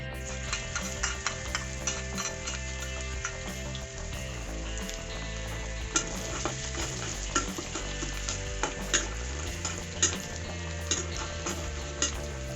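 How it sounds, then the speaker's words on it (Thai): Garlic sizzling in hot oil in a wok while making fried rice with naem (Thai fermented pork), a dense, steady frying hiss with regular ticks and scrapes of stirring throughout. "น้ำมันเริ่มร้อนนะครับเดี๋ยวเราใส่กระเทียมเลยนะครับ"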